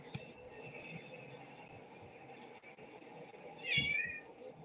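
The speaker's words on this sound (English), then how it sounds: "3 of my cats have been meowing nonstop. So many meows." Indoors, a house cat lets out a single clear meow near the end, rising above a faint, steady background hum and some quiet rustling.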